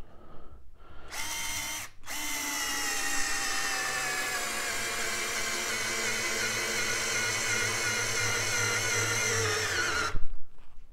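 A power drill gives a short burst, pauses briefly, then spins continuously for about eight seconds driving a screw before cutting off with a clunk.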